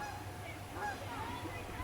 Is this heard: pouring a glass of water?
no